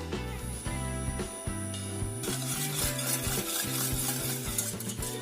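Steady scraping and clinking of a utensil stirring chocolate cake batter with cornstarch in a pan over medium heat, close and continuous, over a layer of background music.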